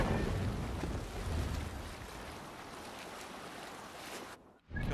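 A Viking longship under sail at sea in Assassin's Creed Valhalla, with a steady rush of wind and waves against the hull that stays loud throughout, then a brief dip near the end.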